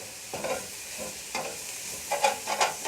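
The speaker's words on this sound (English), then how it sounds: "Scrape off the bottom of the pan where all the ginger and garlic is getting stuck." Ginger and garlic sizzle in a frying pan for Indian Chinese noodles while a utensil scrapes and stirs in several short bursts over a soft steady fry, close by and without talk.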